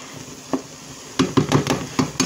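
Vegetables for a chunky Italian spaghetti sauce cook in a pan without oil, giving a soft, close sizzle broken by several sharp utensil taps and scrapes in quick succession.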